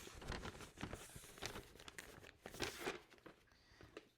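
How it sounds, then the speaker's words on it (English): Adhesive tape crinkles and tears in short bursts while being pressed onto a hand-built clay Christmas tree form, a close, fairly quiet run of crackling rips and pats with no talk. "Just tape it up."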